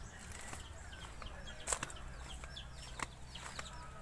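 Chickens cluck faintly and intermittently in the distance over a steady low outdoor background, with a few sharper chirps and rustles.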